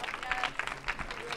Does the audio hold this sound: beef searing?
no